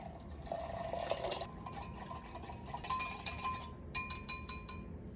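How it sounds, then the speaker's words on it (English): Boiling water is poured onto bloomed gelatin for layered jello shots, giving a soft trickling, liquid fill with small clinks of a container and a few drips near the end. "And now we'll add boiling water to the bloom gelatin to help it dissolve."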